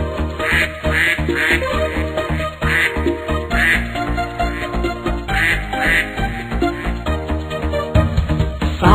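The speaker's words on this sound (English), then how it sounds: "Mother duck said quack, quack, quack, quack" A cartoon duck quacks in a rhythmic series of bright, repeated calls set within a bouncy children's song with steady musical backing.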